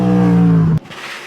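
Cadillac V-LMDH race car with a 5.5-litre V8 holds a loud, steady, close engine drone that cuts off abruptly, followed by a quieter tail.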